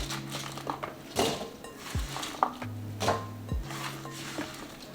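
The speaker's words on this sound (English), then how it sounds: "we're just gonna take and put the Brussels sprouts in this bowl" Brussels sprouts are tipped into a bowl, making a few light thuds and knocks against it with rustling in between, close and fairly quiet.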